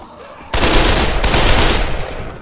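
A shotgun blast in the Dead Island video game, a sudden loud burst followed by a sustained roaring wash of noise, then a second report midway, heard alone without talk.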